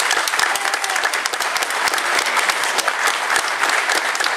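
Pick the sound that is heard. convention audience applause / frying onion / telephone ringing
convention audience applause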